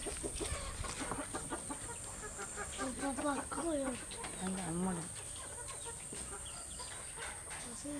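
A chicken being fed biryani clucks in a run of short, rising and falling calls over a few seconds, fairly close, with voices talking in the background throughout.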